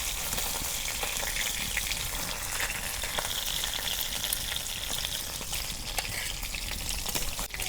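Fish sizzling in hot oil in a pan while starfruit fish is cooked in a Bangla home kitchen, a steady crackling fry running evenly throughout with no talk.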